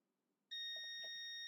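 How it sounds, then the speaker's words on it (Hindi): A multimeter in continuity buzzer mode, probing a Samsung M11 phone board, gives a sudden steady electronic beep that starts after a quiet moment and holds loud and even, with faint clicks of probe contact. "तो हम बजर मोड में रखेंगे पहले।"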